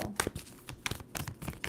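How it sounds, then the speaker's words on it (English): Quick papery riffling and snapping of a tarot deck being shuffled, several brisk bursts in a row, close and fairly loud. "2 more shuffles for Scorpio."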